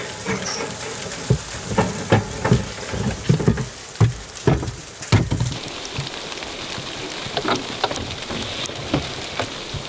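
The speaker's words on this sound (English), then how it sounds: "it actually started to hail pretty hard there for a sec" Rain and hail patter steadily on a surface, with irregular sharper hailstone impacts and thuds scattered through it, louder at first and then settling into a softer wash.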